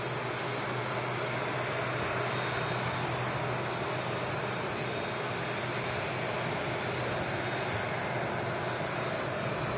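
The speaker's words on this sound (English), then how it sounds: "King of the Skies. Taxiing right past us." A Boeing 747 taxiing at an airport gives a loud, steady, broadband engine roar that holds evenly and close by the whole time, with no voices.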